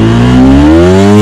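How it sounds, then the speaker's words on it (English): A Yamaha Y15 motorcycle engine, freshly fitted with a Cozy ECU, revs loud and close, its pitch climbing steadily over about a second with no talk. "So saya buat kat luar lah untuk tarik RPM berapa boleh pergi."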